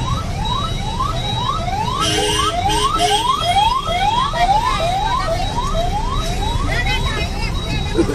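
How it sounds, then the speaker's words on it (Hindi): A line of ambulances carrying seriously ill patients in Gujarat, their sirens wailing in repeated rising sweeps that overlap, loud and steady over low traffic rumble. "गंभीर रोग के मरीज लिए एम्बुलेंस की लाइन देखिए।"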